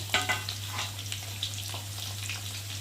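Potato frying with green chilies and ginger paste in a pan, a soft continuous sizzle with light stirring scrapes and faint clinks, steady and close over a low hum.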